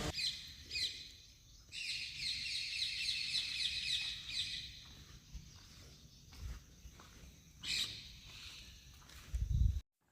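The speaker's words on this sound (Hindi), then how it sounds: "यहाँ पर जो चिड़ियों की आवाज़ थी ना दोस्तों बहुत ही शानदार था" Birds chirp and trill outdoors in a palace garden at Moti Mahal, Ramnagar, Mandla, a bright sustained warble early on with scattered tweets later, over faint rustling and footsteps.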